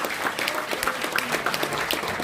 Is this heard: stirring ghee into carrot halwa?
no